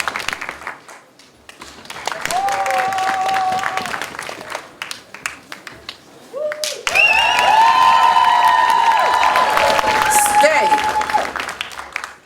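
An audience at a Vancouver election debate claps, cheers and stomps in support of candidates, loud and sustained, rising in two waves, with crowd voices and whoops mixed in.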